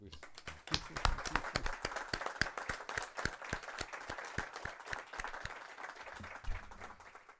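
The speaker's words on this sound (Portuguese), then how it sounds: "a gente podia fazer uma salva de palmas para o seu pai" A colloquium audience gives a round of applause in memory of the writer Sérgio Paulo Rouanet, with sharp, distinct claps forming a steady, fairly close ovation that continues for several seconds before thinning out.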